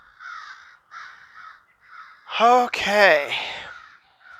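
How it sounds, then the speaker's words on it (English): Crows cawing loudly nearby in a series of harsh, overlapping calls that sound like a squabble, with someone speaking briefly around them during a Ford Flex stabilizer link repair outdoors. "please excuse the crows or whatever the hell it is fighting in the background"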